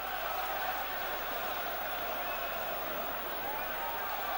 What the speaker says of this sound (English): And just listen to how the crowd are relishing their performance so far.